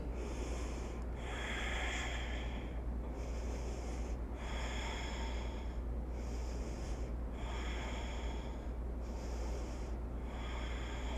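Slow deep breaths during a yoga class, each long airy inhale and exhale repeating in a steady cycle about every two seconds over a constant low hum.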